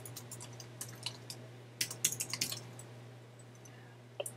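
Computer keyboard typing during an ActionScript 3 coding session: scattered soft key clicks, then a quick burst of several keystrokes midway and a couple more near the end, close and quiet over a steady low hum.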